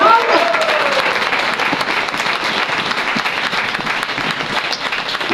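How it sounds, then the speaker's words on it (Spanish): Church congregation applauding during a sermon, a steady dense round of clapping from a crowd that fills the room, fairly loud and continuous. "denle un aplauso por eso"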